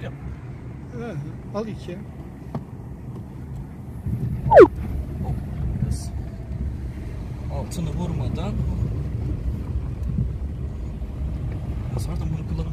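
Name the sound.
Fiat Egea 1.3 Multijet diesel car driving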